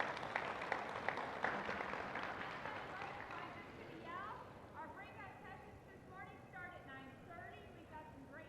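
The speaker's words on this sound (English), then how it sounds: "So I hope you'd give them a round of applause for their time this morning." Audience applause for a panel at a breakfast session, faint dense clapping that tapers off as voices continue over it.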